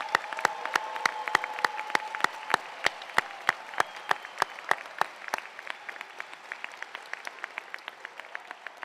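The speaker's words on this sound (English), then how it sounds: "let's have one final round of applause for the class of 2026." An audience at a dental school white coat ceremony applauds the graduating class, a steady round of clapping that carries on for several seconds with sharp individual claps standing out near the recorder and no talk.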